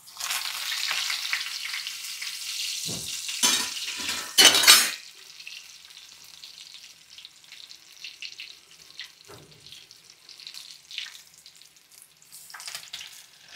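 Coriander bajji in gram flour batter frying in oil, a steady bright sizzle with a few louder bursts and clatters early on, then settling into a softer continuous hiss.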